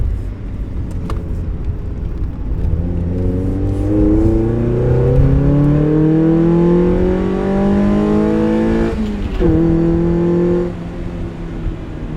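A tuned NB Mazda Miata with a Cobalt axleback exhaust, Racingbeat mid-pipe and Raceland header revs loudly up through the gears, its engine note climbing, then shifts briefly and eases off near the end.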